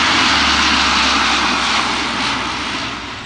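A Royal New Zealand Air Force Hercules with four Allison turboprop engines roars loudly and close, a dense steady drone that eases slightly as it passes.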